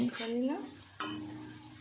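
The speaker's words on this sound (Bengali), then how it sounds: "আমি খুব ভালোভাবে তেলের মধ্যে এটাকে ভেজে নিয়েছি।" Ginger garlic paste frying in hot oil for a Bengali fish-head cabbage dish, a soft steady sizzle with stirring scrapes and one sharp utensil knock midway, close and moderately loud.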